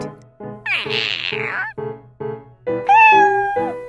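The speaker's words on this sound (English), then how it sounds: "That's a cute cat." Several drawn-out meows from a cat, loud and close, over a steady low background tone, the last one rising and sustained.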